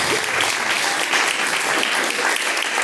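Steady, dense applause from a church congregation, loud and continuous throughout with no pauses.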